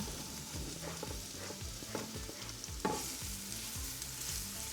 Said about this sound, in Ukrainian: На сковорідку наливаю небагато олії і до прозрачності жарю цибульку.